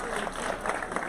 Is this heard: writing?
no